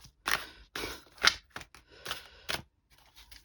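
A run of crisp tarot card-shuffling bursts, riffles and snaps close by, with short pauses between them.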